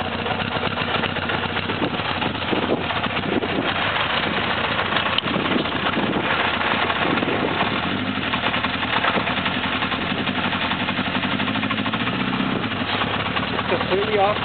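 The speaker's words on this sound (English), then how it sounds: "Idling 1200 RPM. No hand on the throttle." A 1982 Honda CB900F four-cylinder motorcycle idles at about 1200 RPM after a cold start, a steady, even engine drone throughout with a voice talking over it.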